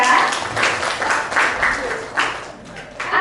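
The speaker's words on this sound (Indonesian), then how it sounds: "Beri tepuk tangan untuk Pasha." A small school class claps in a brief burst of applause, loud and close, with a few voices mixed in.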